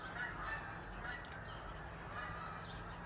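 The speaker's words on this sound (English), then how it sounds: "It's 4 geese looking for the rest of their V." A small group of four geese flies overhead at sunrise, giving faint, distant honks over a steady wash of outdoor background noise.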